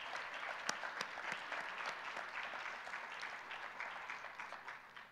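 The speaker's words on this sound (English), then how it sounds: "If we could give them a round of applause." An audience at a university graduate research speaking final gives sustained applause for the judges seated in the front row, a steady wash of clapping that is quiet and distant.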